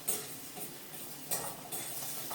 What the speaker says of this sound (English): Quick little toss on the heat.